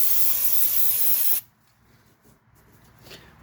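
Brake cleaner sprays in one loud, steady aerosol hiss for about a second and a half while cleaning out the ball joint hole on a Triumph TR7, then cuts off abruptly, leaving only faint handling noise.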